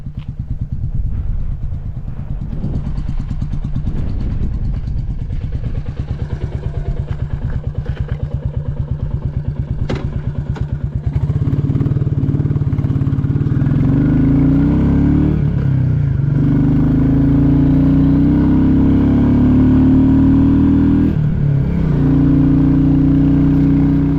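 Royal Enfield Classic 350 single-cylinder motorcycle cruising on gravelly rural roads in third and fourth gear, a steady loud engine thrum with clattering road and wind noise and gear changes, rising to a stronger drone partway through.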